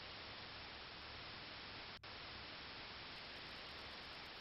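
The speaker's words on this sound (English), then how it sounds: "The television screen is filled with white noise once again." Television static in the horror game Fear and Hunger 2, a steady, dense hiss of white noise filling the whole clip, briefly broken by a single tiny dropout midway.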